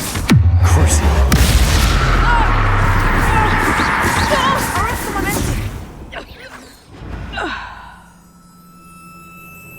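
A Confringo explosive spell blast in Hogwarts Legacy goes off with a sharp, loud whooshing burst at the start, followed by a rumbling sustained roar and smaller crackling hits, with a voice heard amid the effects.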